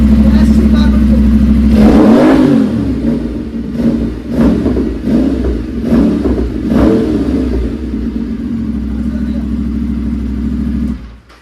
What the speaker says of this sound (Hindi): हमने इसको लगाया डीकैट SC